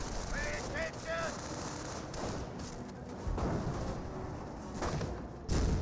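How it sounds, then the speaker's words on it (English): Small arms fire in the strategy game Company of Heroes, rapid rattling machine-gun bursts and scattered rifle shots at mid distance, with battle noise and a commentator talking over it. "Taking small arm fire!"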